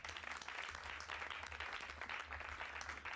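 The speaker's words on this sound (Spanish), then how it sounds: "Un aplauso para ella" A church audience at a Spanish-language teaching session applauds steadily, a dense, even wash of clapping that continues without pause and with no talk over it.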